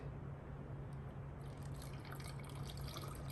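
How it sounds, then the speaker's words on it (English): Plain water is poured into the cooling system of a 2004 Yamaha YFZ450 ATV during a rebuild, a faint, steady trickle and splash of liquid that grows slightly busier partway through, over a constant low hum. "I think we can start filling this thing with some fluids. Just gonna use water for now"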